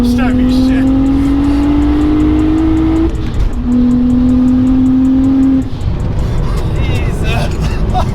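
A 700hp N54 single-turbo car accelerates hard in two long, loud pulls, its engine note droning and climbing steadily while people talk and react around it.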